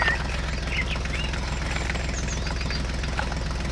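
Small engine of a toy mini tractor running in a farm field, a steady close chugging idle with rhythmic knocking pulses and no break.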